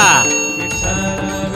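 A bright bell rings once and decays over about a second and a half, loud and close, as a sound effect at the end of a Marathi kirtan recording.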